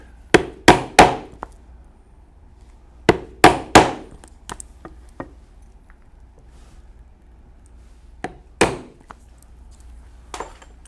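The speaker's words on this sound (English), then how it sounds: "And we will punch the holes where we will lace this strap to the bag." A hole punch driven through a leather strap for a biker saddle bag, heard as loud, sharp strikes in quick groups of three, separated by quiet gaps, with a few lighter taps and a final single hard hit.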